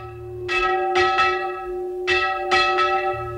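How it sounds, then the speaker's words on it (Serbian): A church bell rings in several loud, close strikes at uneven intervals, each stroke leaving a long, humming metallic ring that overlaps the next. "sa njega zvoni zvono"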